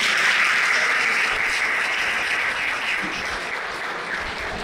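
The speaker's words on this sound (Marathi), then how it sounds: "तिथं जोरदार टाळ्या." Sustained, loud applause from a hall full of students at a talk on the 2025 budget, a dense wash of many hands clapping that holds steady and eases off slightly toward the end.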